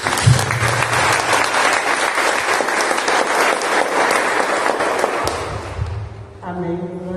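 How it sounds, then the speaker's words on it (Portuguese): A church congregation claps in a steady, dense wash of applause that stays loud and full for several seconds, then fades as a voice and music come in at the end. "Você pode aplaudir o Senhor."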